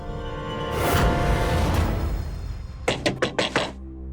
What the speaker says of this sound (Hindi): शीतल, शीतल, शीतल, दरवाजा खोलो।